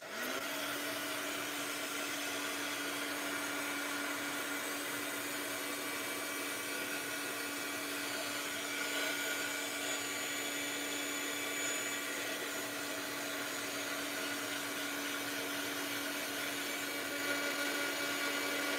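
A handheld dryer blows steadily to dry powders on an art journal, a constant close whirring hum with a fixed tone running unbroken throughout.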